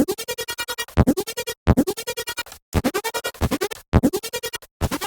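Buzzy synth bass notes with unison enabled, in repeated short phrases, bright and thick with a detuned, chorus-like width, separated by brief silences.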